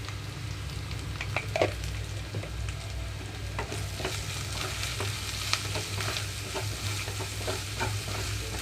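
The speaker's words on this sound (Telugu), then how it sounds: "ఇప్పుడైతే ఇందులోకి కట్ చేసి పెట్టుకున్న అరటికాయ ముక్కలు అన్నీ వేస్తున్నాను" Raw banana pieces sizzle gently in a pan with salt and turmeric, a soft steady frying hiss broken by scattered scraping and stirring clicks, close and fairly quiet.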